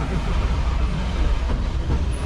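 Excursion train on the Tennessee Valley Railroad turning around on a wye track, a steady low rumble of rolling railcars with faint rail clatter, continuous and fairly close, with no talking.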